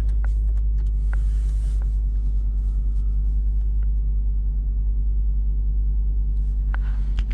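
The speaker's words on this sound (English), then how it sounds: "My battery got pretty low, so I just had to start the car." A Volvo engine idles with a steady, deep rumble throughout, accompanied by a few faint clicks and taps nearby.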